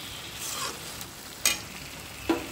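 Paneer cubes, dipped in salted water rather than fried, are added to an onion gravy in a pan, giving a steady close sizzle with a few sharp clinks and scrapes of stirring.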